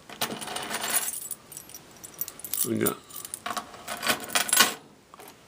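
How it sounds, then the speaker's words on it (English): A bunch of tryout keys jangles and rattles as they are tried one after another in a warded Master padlock, in bursts of metallic clinking close by, while a person speaks briefly. "So I go through every one of my tryout keys and try it in the lock."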